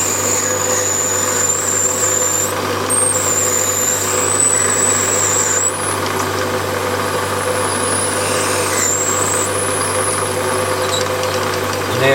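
A centre drill cuts into a workpiece on a Warco WM180 lathe, the motor humming steadily while thin high squeals rise and fall as the bit bites in.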